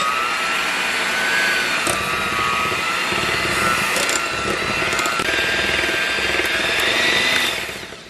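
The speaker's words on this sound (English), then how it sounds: "we're going to whisk this together so it becomes creamy." Steady, close whirring of a mixture of canola oil being whisked until creamy for peanut butter cupcake batter, a continuous buzzing drone that stops near the end, with no talking.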